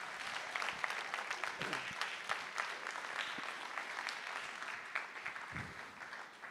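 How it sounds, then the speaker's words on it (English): A high school concert audience applauds an orchestra's solo and ensemble players, a steady, fairly faint wash of clapping that carries on throughout with no speech over it. "So how about a big round of applause for these guys?"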